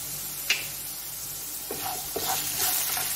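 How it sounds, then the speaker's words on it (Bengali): Ground turmeric, coriander, cumin and chilli powder frying in a pan for chickpea ghugni: a soft, low sizzle with a few sharp spoon clinks and scrapes as the spices are stirred. "ভালো করে ভেজে নিই।"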